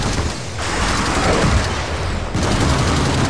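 Artillery barrage from a Helldivers video game strike, a dense continuous roar of overlapping explosions and gunfire rumbling loudly throughout, with a brief lull before another burst of impacts near the end.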